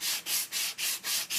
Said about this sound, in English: I just take my sanding block